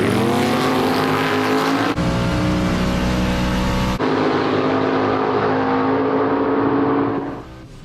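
A Falcon and a nitrous Corvette launch in a street-style drag race, loud roaring engines revving hard with abrupt shifts, then the sound fading as the cars pull away down the lane.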